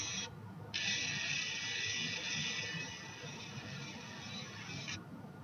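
A Gibson Min-ETune robotic tuner turns to loosen a guitar's A string, giving a steady, close mechanical whir with a ratchet-like buzz. It runs for about four seconds, then stops.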